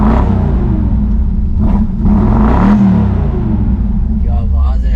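Shelby GT500 Mustang Eleanor engine revving nearby: a deep, rumbling growl with swelling throttle blips, loud and close, while people talk over it.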